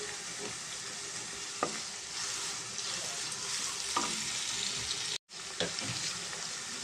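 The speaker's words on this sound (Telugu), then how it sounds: "మనకు కొంచెం ఉల్లిపాయలు మంచి గోల్డ్ కలర్లో వచ్చేదాకా ఫ్రై చేద్దామండి" Onions and green chillies frying in a pan for a mutton curry give a steady close sizzle with soft stirring scrapes and one brief dropout near the end.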